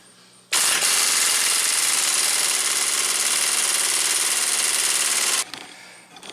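A pneumatic impact wrench hammers for about five seconds at the torqued front wheel bearing bolts of an Audi A8 D4. The rattling burst is loud and continuous, then cuts off abruptly with no talk.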